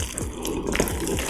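Water poured into sesame chicken batter while it is mixed, a steady close trickle and splash running through the whole short moment with no talking.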